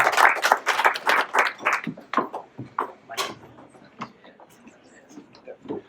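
Audience applause at a residential real estate digital marketing event, a short burst of clapping that starts loud and thins out over several seconds into scattered claps.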